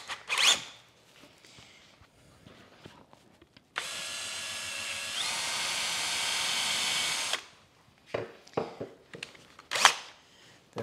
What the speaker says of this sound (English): I think what I'll do first is cut a chamfer on this.